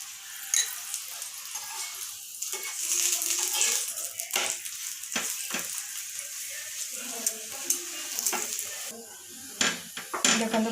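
A carrot paratha fries in oil on a hot pan, giving a steady sizzle broken by repeated scraping and stirring clatters of a utensil against the pan, close and fairly loud throughout.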